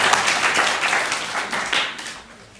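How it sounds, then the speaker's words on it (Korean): A church congregation applauds after the Lord's Prayer at a morning worship service, giving a dense, loud round of clapping that tapers off over a couple of seconds. "우리 성삼일 찬양께 영광의 박수 올려드립니다."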